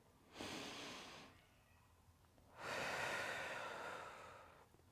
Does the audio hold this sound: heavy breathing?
yes